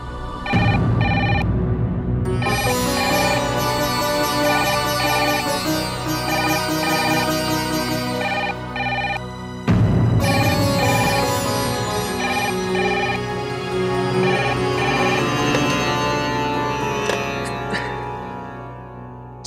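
A telephone rings loudly and close by in an insistent, repeating electronic tone, pausing briefly near the middle and then starting again for a second long burst.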